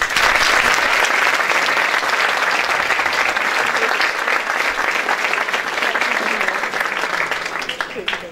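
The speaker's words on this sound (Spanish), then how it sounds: "Un fuerte aplauso." Sustained audience applause at a concert by a student wind band of the Unión Musical de Serra, Valencia, a dense, steady clapping roar filling the whole stretch, loud and continuous from start to finish.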